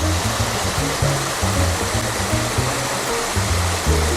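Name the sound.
water flowing from pond at Lost Mountain Park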